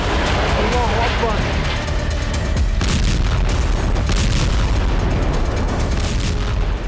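Explosions in southern Lebanon are heard as a dense, continuous wall of loud booming and rumbling blasts, with a voice speaking over them.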